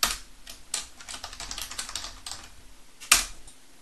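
A password is typed on a computer keyboard as a quick run of close, crisp key clicks. The pace slows toward the end, and one sharp key press lands near the finish.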